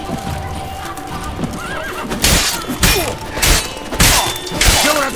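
Horse in The Witcher 3 video game, loud whinnying and neighing over clip-clopping hooves, with sharp crashing impacts mixed in and busy game sounds underneath.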